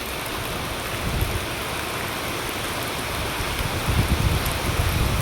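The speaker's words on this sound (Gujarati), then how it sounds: "આજે આવી ગયો વરસાદ" Steady rain pours down during a dark evening in a village, a dense continuous hiss of drops on surfaces that swells slightly louder toward the end, with no voices.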